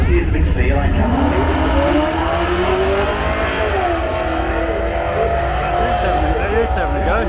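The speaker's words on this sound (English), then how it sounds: "Neil Alexander, he's got the utility, perfect for drag and drive." Utility vehicle making a drag racing run, its engine roaring loudly and steadily throughout with rising revs, crowd noise and voices mixed underneath.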